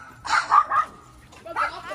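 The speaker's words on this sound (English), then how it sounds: "Look at this dog." A dog barks in a quick burst of three close yips, followed after a pause by one more bark, fairly near and clear over a quiet background.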